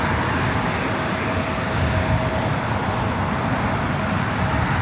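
A United Boeing 787 Dreamliner arriving from Hong Kong at LAX on the north side, a loud continuous broadband engine roar with a steady whine running through it, no talk.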